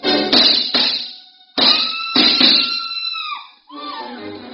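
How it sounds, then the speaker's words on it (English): Woman's high, frenzied scream in an old radio detective drama, several loud shrill bursts with brief gaps, the last one sliding downward before a final shorter cry. "A scream filled the house, high and frenzied."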